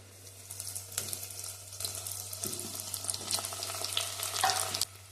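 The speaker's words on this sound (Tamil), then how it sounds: "வெங்காயம் ஒன்று சேர்த்துக்கிட்டேன் நல்லா வதக்கி விட்டுக்கலாம் தக்காளி சேர்த்துக்கலாம்" Onions and tomatoes sauté in a pan for fish curry, a soft steady sizzle broken by scraping stirs, with a faint low hum underneath and no talking.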